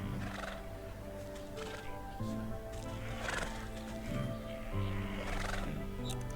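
A sad creature, part donkey and part unicorn, in the video game Wytchwood, lets out a drawn-out whinnying bray with wavering cries over a soft clip-clop, alone and at moderate volume.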